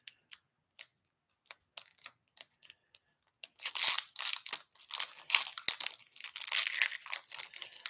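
A Kryptic Kickstarter trading card pack is opened: a string of sparse crisp ticks and crinkles, then a denser stretch of foil wrapper crumpling and tearing, close and fairly quiet with no talk.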